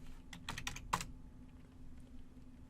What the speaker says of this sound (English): now type the run command and press enter